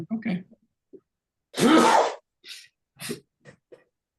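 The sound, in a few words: sneeze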